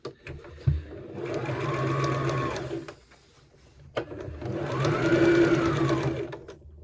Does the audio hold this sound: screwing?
no